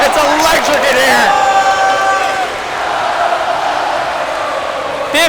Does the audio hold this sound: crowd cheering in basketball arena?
yes